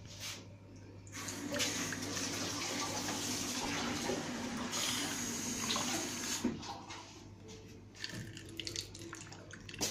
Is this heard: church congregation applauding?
no